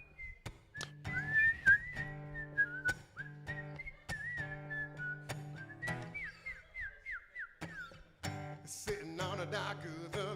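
A person whistles a lively melody with sliding, warbling notes and short trills, fairly close and alone, broken by brief pauses and a few sharp clicks.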